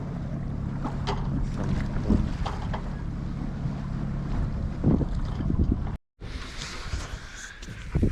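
A sailboat under sail with the motor off, heading along the coast from San Diego toward San Pedro: continuous wind rush and water wash against the hull, with a brief dropout before the wind noise resumes, no talking.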